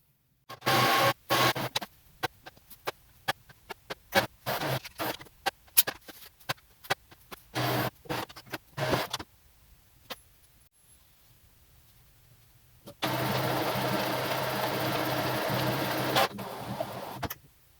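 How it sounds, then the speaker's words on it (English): Mechanical noise from an Epson inkjet printer during setup: rapid bursts of clicking and whirring, a quiet pause, then a sustained pumping hum as ink is pushed through the tubes for several seconds before stopping. "The printer will now push most of the ink throughout the tubes inside to print properly."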